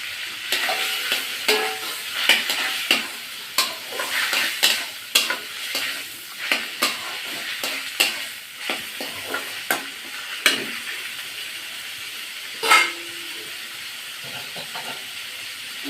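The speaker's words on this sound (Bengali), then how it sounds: "এবার আমি চিকেনটা ঢেলে দেবো।" Chicken pieces poured into cooked masala in a pan, hissing and sizzling loudly at first, then settling into steady frying with irregular scraping and stirring clatter, close up and without talk.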